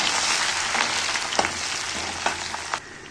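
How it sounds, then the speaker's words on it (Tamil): Garlic and curry leaves fry in hot oil for a garlic kara kuzhambu, giving a close, steady crackling sizzle with a few louder pops and stirring scrapes before it suddenly drops away. "பூண்டு நல்லா செவந்து வருது இந்த டைமில்"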